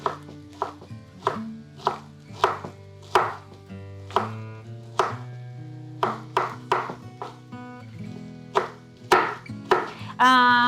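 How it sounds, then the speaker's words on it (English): An onion is chopped into small pieces with a knife: about twenty sharp, close board strikes in an uneven rhythm, some in quick pairs, each with a short ringing decay, and no voices. "I have one onion, which I'm gonna chop it in a very small pieces."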